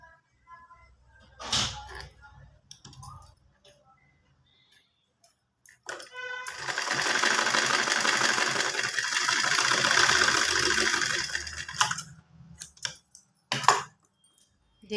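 A sewing machine stitches an elastic pant waistband, a sustained mechanical whirring run lasting about six seconds between shorter handling clatters and pauses, fairly close and alone.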